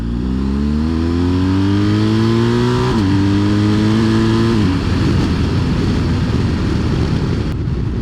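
A 2021 BMW R1250 GS Adventure motorcycle engine revs loudly and steadily, pitch climbing before dropping back, then settling into a rough, rumbling run nearby.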